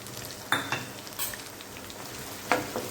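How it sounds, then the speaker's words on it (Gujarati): Crushed onion, two or three bulbs, drops into a pan with sizzling ginger and garlic: a soft continuous fry with a few sharp stirring scrapes, close and unaccompanied by talk. "અહીંયા મેં 2-3 ડુંગળી લીધી હતી અને આવી રીતે મેં ક્રશ કરી લીધી છે, તેને ઉમેરી લઈશું"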